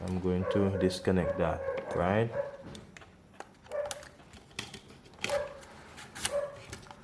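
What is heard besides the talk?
dog barking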